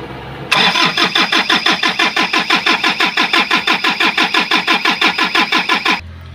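An Isuzu 4JG2 diesel engine cranks without catching, a loud, steady rhythmic starter churn of about twenty even pulses that runs for five seconds and then stops abruptly.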